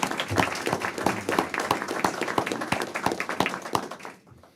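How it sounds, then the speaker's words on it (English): A room full of people at a Board of Education meeting claps steadily for about four seconds, dense and lively, then the applause fades out quickly. "we could have a round of applause for Connor"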